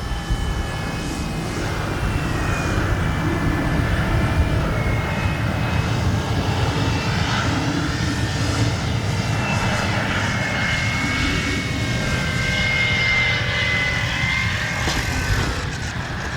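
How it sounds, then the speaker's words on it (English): An electric-powered FlexInnovations RV-8 model airplane drones steadily overhead in wind, a continuous high buzzing whine that holds for the whole stretch with slight shifts in pitch. "What an easy flying plane. Even in this wind."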